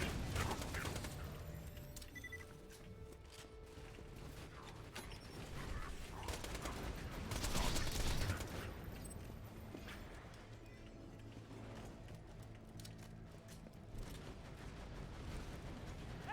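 Autogun firing in the video game BorderQuest, bursts of rapid mechanical gunfire and clattering action, loud at first, easing, then swelling again around the middle before tapering off.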